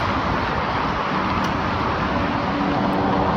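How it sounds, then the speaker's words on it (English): Road traffic rolls through an intersection controlled by a light, a steady broadband wash of passing cars that stays constant throughout, with no talk. "I'm actually hearing the traffic that's south of me coming north"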